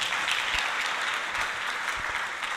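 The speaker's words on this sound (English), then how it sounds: "Let's give a round of applause to our HP Plus team." Steady applause from an audience at an end-of-project event in Lilongwe, Malawi, a dense, even wash of clapping that holds at a constant level throughout.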